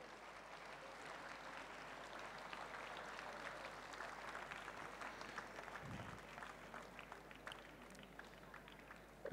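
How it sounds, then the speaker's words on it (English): Sustained audience applause for school staff at a platinum jubilee celebration, a dense steady wash of clapping from a large crowd lasting throughout, moderately distant. "Please give them a big round of applause."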